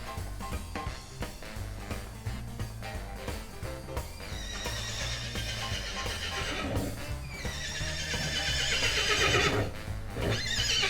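A horse whinnies in drawn-out bright calls over a low, rhythmic background, with hoof clip-clops, getting louder toward the end.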